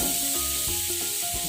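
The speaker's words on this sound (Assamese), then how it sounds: "মই এখন পেন পাতি তাত বাটাৰ দি দিছোঁ। পনীৰখিনি ভাজিম।" Paneer frying in butter in a pan gives a steady close sizzle and soft hiss throughout, with no talking.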